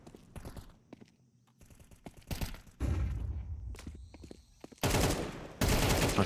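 Gunfire in a Counter-Strike match on the Ancient map comes in sharp bursts and single shots, with quieter gaps and clicking between them and dense rapid fire near the end.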